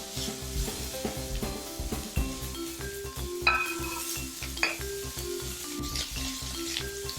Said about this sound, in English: It's time to brown the ground beef